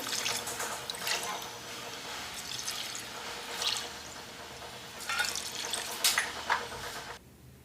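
Water pours steadily into a cooking pot for several seconds, rushing and splashing in bursts, then stops abruptly.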